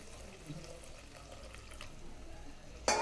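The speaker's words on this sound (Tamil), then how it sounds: "இதோட நம்ம சென்னா வேக வச்ச தண்ணி மட்டும் இதோட சேர்த்துக்கோங்க." Chickpea cooking water is poured into a masala gravy in a home kitchen, making a soft, steady splashing trickle that ends in a brief louder splash.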